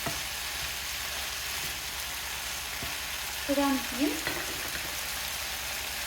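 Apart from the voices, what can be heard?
bell pepper frying in a pan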